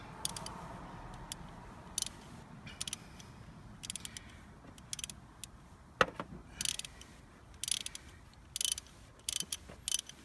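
A wrench with a ratcheting mechanism loosens 12 mm bolts on the engine of a 2005 Nissan Altima 2.5 litre, giving a series of quiet, sharp clicks and ratchet bursts that quicken toward the end, with no talking.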